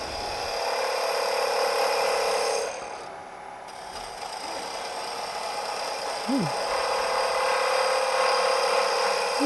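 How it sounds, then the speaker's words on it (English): A spindle roughing gouge, held upside down, cuts along the end grain of a wooden salt shaker blank spinning on a lathe, giving a steady, loud scraping rasp that briefly drops away midway before resuming without talk. "I'm going to go back to that upside down cut on my spindle roughing gouge"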